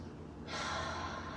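A single long inhale during a yoga session, a soft airy breath that swells after a quiet start and holds steady, close and alone with no talking.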